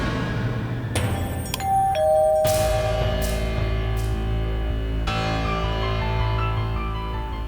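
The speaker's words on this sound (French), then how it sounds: "C'est sans doute Pragya qui sonne" A two-tone ding-dong doorbell rings once indoors, clear and moderately loud over a steady low background hum.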